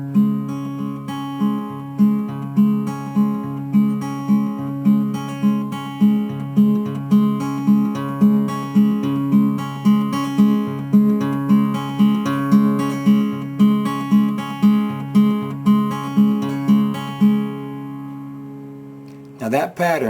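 Fingerstyle acoustic guitar intro to a song, picked in a repeating thumb-index-middle-index pattern, a steady even arpeggio that rings out alone before a brief scrape at the end.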